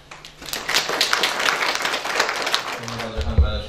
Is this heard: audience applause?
yes